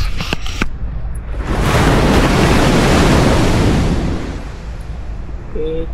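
Sea waves at a beach resort in Morong, Bataan, swell into a loud roaring wash that rises, peaks and recedes, close and heavy with some wind buffeting on the microphone.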